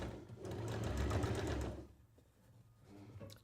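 Sewing machine stitching a quilt seam, a fast close whirring run of needle strokes that stops partway, leaving quieter handling sounds.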